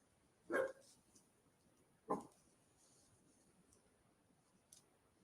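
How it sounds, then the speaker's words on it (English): A dog barks twice, about one and a half seconds apart, with sharp, moderately loud barks over a quiet room and a faint click near the end. "This dog is barking at nothing."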